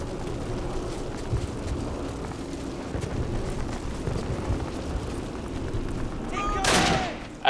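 Dense, rumbling gunfire from a Call of Duty match set in night-time St. Mere Eglise, with M1 Garand rifles in play, a continuous mid-distance barrage that swells into a louder burst near the end.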